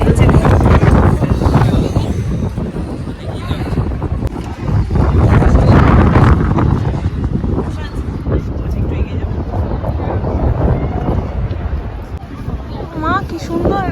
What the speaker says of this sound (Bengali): বাট ভীষণ ঠান্ডা হাওয়া দিচ্ছে।